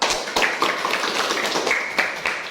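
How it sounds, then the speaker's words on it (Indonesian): Schoolchildren in a classroom clapping together, a dense burst of hand claps with a few sharper individual claps standing out, loud and close, running continuously for a couple of seconds. "Tepuk tangan untuk kita semua."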